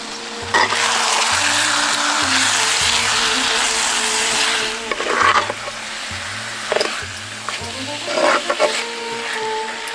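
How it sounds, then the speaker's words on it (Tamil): Half a kilo of washed chicken pieces frying in a pan with salt and crushed black pepper for pepper chicken, a steady loud sizzle with stirring scrapes and clinks throughout, plus a repeating low electrical hum. "இப்ப கழுவி வச்சிருந்த 1/2 கிலோ கோழிக்கறியை சேர்த்தரலாம்."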